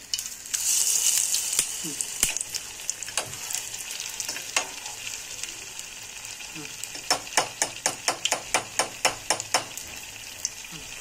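Paneer pieces fry in hot oil with a strong hiss that settles into a steady sizzle. Sharp spattering pops grow more frequent toward the end.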